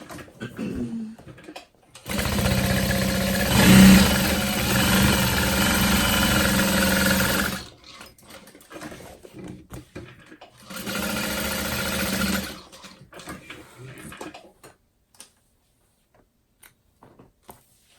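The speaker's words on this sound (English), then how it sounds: "I'm going to baste it in place around the outer edges as well." A sewing machine bastes around the outer edges of a handbag, running in two steady bursts, a long run then a shorter one, with quiet handling noise between and after.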